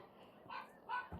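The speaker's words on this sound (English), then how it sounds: "Sorry if you hear the people in the background and the dog." A dog barks twice in the distance, faint, short yips over a quiet outdoor background.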